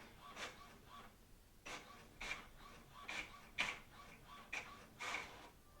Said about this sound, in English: the printer is printing if you can hear that